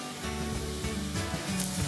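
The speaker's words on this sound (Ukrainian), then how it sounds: "смажити будемо на максимальному вогні, щоб волога швидше випаровувалася, а грибочки почали обсмажуватися" Mushrooms frying in oil in a pan over maximum heat, giving a loud, steady, close sizzle with slight surges throughout.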